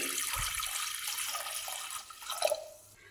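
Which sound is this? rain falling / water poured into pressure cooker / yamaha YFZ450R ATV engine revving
water poured into pressure cooker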